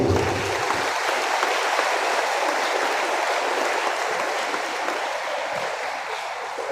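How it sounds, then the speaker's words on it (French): A church congregation at a Notre Dame parish in Petit-Goâve applauds on 15 August, a long, even wash of many hands clapping that fades slightly toward the end, with no talk. "Nous applaudissons."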